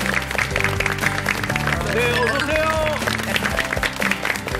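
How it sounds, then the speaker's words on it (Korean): Studio audience in a Korean TV health talk show breaking into warm applause to welcome guests, dense continuous clapping under music while a host speaks over it. "저희가 박수로 따뜻한 박수로 한번 모셔보도록 하겠습니다."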